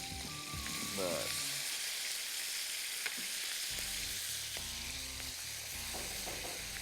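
Fish sizzling in a pan over high heat for a fish curry, a steady crackling fry throughout with stirring and clinks of utensils, a voice speaking over it.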